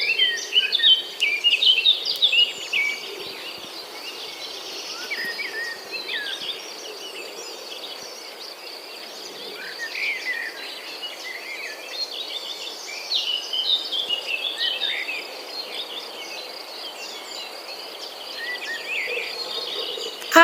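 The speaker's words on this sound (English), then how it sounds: "Sometimes you just gotta listen to the birds chirp." Birds chirp along a nature trail, a steady scatter of high twittering calls layered over a constant insect buzz, moderately faint and distant with no voices.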